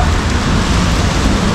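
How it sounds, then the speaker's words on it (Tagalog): Heavy rain pours down outside a building, a loud, dense and constant roar of drops hitting surfaces, with no pauses or voices. "ang lakas ng ulan"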